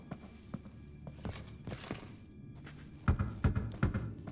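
Knocking on full barrels in The Witcher 3 video game: a series of dull, solid thunks at irregular intervals, soft at first and then louder clustered knocks near the end, with no speech.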